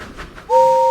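Steam engine train whistle from Thomas & Friends, with a faint chugging rhythm that gives way to a sudden, loud, steady two-tone blast held to the end.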